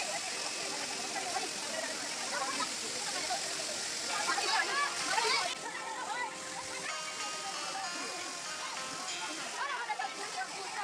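Water pours steadily down Gavalidev waterfall in Navi Mumbai, a roughly 50-foot-high, 40-foot-wide cascade, making a constant hissing splash that swells briefly midway, with children's voices faintly mixed in.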